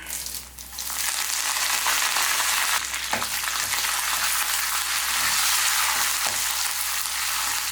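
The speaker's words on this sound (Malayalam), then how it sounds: "ഇപ്പോൾ ഉണക്കമുളകൊക്കെ ഒന്ന് ഫ്രൈ ആയിട്ട് വന്നിട്ടുണ്ട്" Dried red chillies and curry leaves fry in hot oil with a loud, continuous sizzle, punctuated by a few sharp crackles and stirring scrapes.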